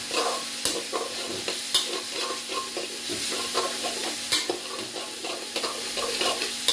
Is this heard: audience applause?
no